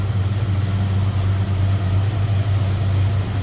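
A 1972 Buick Skylark GS convertible with a GS 350 engine idles steadily, a deep, even low rumble that holds constant throughout with no revving.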